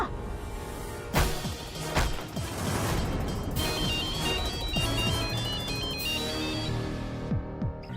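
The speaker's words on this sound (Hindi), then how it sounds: "फोन उठाइए।" A phone ringtone chimes repeatedly over background music and clattering, a bright electronic melody sounding in repeated bursts.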